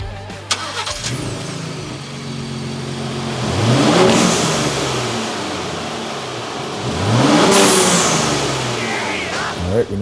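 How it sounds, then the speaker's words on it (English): A 2023 Ford Raptor with a Turbosmart blow-off valve is revved twice in swelling rises of engine roar, each fading back to a steady idle hum, heard up close with no talking. "now I'm plugging the Turbosmart valve into the factory harness"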